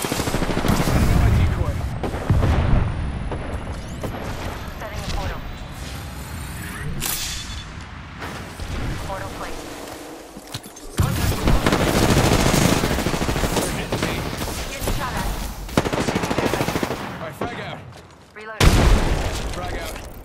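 Apex Legends firefight with dense, near gunfire: rapid bursts and single shots with loud booms, continuing through most of the clip in a busy, layered mix.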